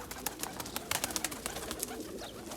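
Bursa tumbler pigeons coo in a cage amid soft fluttering and light clicks, a busy layered texture of moderate, close bird sounds.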